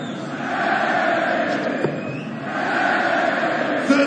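Crowd at the World Darts Championship quarter-final, a loud sustained roar and chatter of spectators that swells and dips, with scattered shouts.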